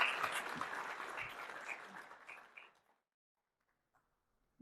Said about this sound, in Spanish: Démosle un fuerte aplauso a Norma Lazo